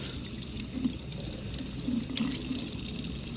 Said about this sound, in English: So we're going to rinse off the fever grass so we can put it in the pot.